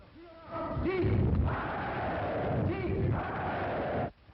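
A crowd at a political rally, heard in an old 1942 wartime film recording, cheers and applauds loudly in swelling waves with shouted voices rising above it. The sound cuts off abruptly at the end.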